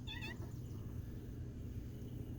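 A cat gives one short, rising meow near the start over a quiet low background hum, then falls silent.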